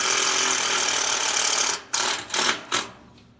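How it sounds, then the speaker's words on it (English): A power drill bores through a thick steel gate with a loud, steady grinding whine, then cuts out and restarts in a few short bursts as it breaks through. "It's a steel gate too, so this is going to be boring because it's pretty thick."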